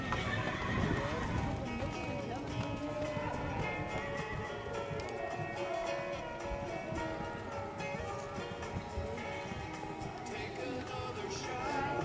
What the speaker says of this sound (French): Jet 7 d'épée, jument par Organocité